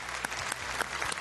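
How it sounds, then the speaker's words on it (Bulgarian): A few spaced claps from a TV game show studio audience on the Bulgarian program The Last One Wins, brief and fairly quiet over low background hum. "Аплодисменти и за последният участник в този епизод"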